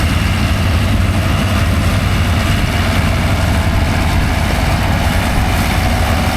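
Vintage collector's tractor idling at a West Cork silage working day, a loud, steady low diesel rumble that runs on unbroken without voices.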